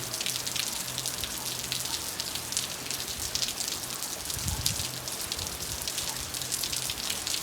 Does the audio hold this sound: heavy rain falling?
yes